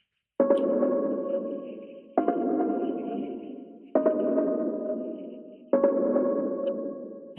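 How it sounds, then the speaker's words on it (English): A plucky synth from a remix sounds alone as four sustained, bright chordal notes, each struck sharply and then fading slowly over nearly two seconds. "And the last thing is this plucky synth."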